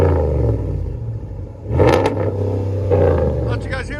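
A RAM 1500 pickup with a 5.7L Hemi V8 and aftermarket exhaust revs in a deep, rumbling burst that swells and settles, with voices talking over the engine.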